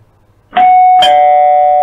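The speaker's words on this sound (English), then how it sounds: "just the classic doorbell chime" A classic two-tone ding-dong doorbell chime plays as a custom ringtone on a Hikvision IP intercom, loud and close, with the second tone ringing out and sustaining.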